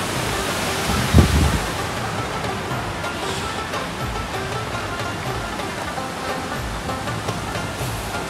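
Water flows steadily in a continuous broadband rush close by, with one brief louder splash near the start, at a spot in Jammu and Kashmir.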